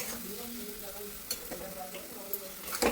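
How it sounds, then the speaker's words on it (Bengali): Masala and tomato sautéing in a pan while being stirred, a steady close sizzle with scraping stir strokes and a few light clinks, no talk. "তারপর টমেটো দিয়ে দেবো, দিয়ে ভালো করে কষিয়ে নেবো।"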